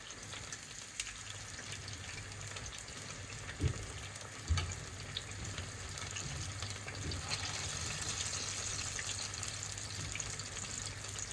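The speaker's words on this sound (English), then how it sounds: "about 3 to 5 minutes of frying these fritters" Jamaican fritters fry in hot oil with a steady, soft sizzling hiss and occasional pops, continuous and unbroken.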